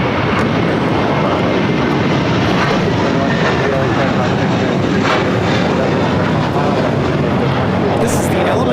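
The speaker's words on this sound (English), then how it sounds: "This is the Element of Surprise taking off to JFK, JetBlue Airways 1124 on A321." A JetBlue Airways Airbus A321 takes off at LAX bound for JFK, a loud sustained roar of jet engines filling the whole span, with radio or voices faintly over it.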